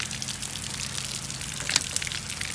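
Steady gushing water fills a plastic Hot Wheels water slide toy, a continuous close rushing flow with a few small splashes near the end.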